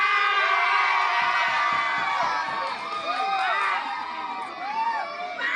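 A crowd at a giveaway event shouts and cheers loudly, a dense wave of whoops and children's shrill voices that holds steady and slowly tapers.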